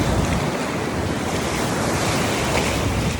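Ocean waves crash and wash continuously against the shore, a loud dense rushing surf with wind buffeting the microphone, no voices present.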